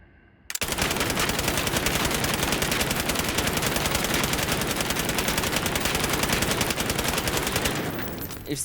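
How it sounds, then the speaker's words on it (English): FINN LMG light machine gun firing one long sustained burst in a video game, a dense rapid rattle of shots at steady high loudness after a brief quiet start, tailing off near the end. "let's do the recoil test with each attachment"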